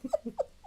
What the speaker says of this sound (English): my dog is currently collecting glitter. She's rolling around on the floor.